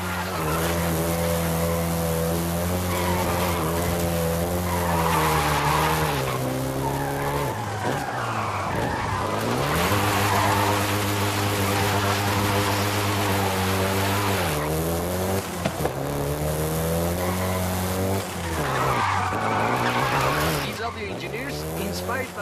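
A Volkswagen Golf GTI drives through Mexico in the Forza Horizon 5 racing game. Its engine holds a loud, steady harmonic drone that rises and falls in pitch with gear changes, and tires skid and squeal throughout.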